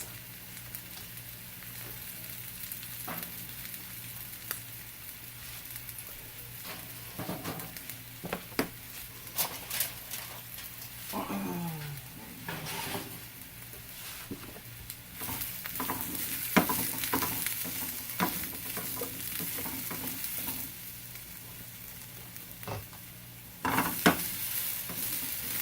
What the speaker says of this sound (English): I put in my mushrooms. And I need to cook them for about 3 minutes.